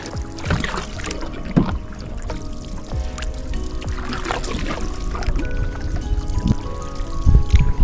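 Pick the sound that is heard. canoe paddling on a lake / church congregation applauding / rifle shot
canoe paddling on a lake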